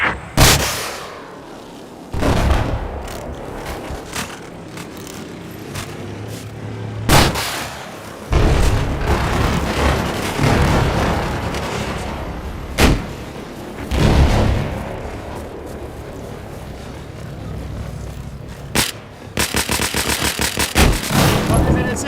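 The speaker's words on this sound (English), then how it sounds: "There appears to be an enemy machine gunner east of your position." Battlefield gunfire in the video game sounds in loud bursts and heavy booms over continuous combat noise, ending in a rapid stuttering volley near the end. Voices come and go beneath it.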